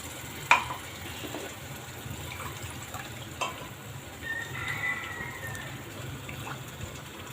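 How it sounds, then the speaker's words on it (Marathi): Spiced water goes into a pan of frying raw banana curry, a soft gush and steady low sizzle under a few light utensil clinks, fairly quiet and close. "आता आपण हे मसाल्याचंच पाणी टाकून घेऊ याच्यामध्ये"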